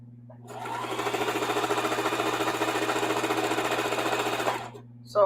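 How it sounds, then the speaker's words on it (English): A sewing machine runs steadily while sewing quarter-inch seams on scrappy half-square-triangle quilt blocks, a close, even motor whir with rapid needle pulses that stops abruptly before a brief knock. "So I'm only going to sew a few of these together."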